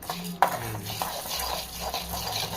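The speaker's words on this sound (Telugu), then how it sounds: "చక్కగా ఇవన్నీ ఇలా వేపేసుకోవాలి" Spices for sambar dry-roast in a pan, a continuous close scraping and stirring with a soft sizzle underneath and a sharp utensil knock near the start.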